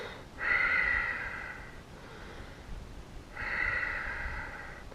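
Two deep, slow breaths during a beginner yoga twist, each a long airy exhale, close and soft with a quiet pause between.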